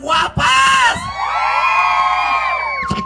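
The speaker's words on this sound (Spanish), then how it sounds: "¡Mira, el grito de las chicas guapas!" A live audience at an event, mostly women, lets out loud shouts and cheers in a sustained burst of high, overlapping voices and whoops, rising and falling over a few seconds.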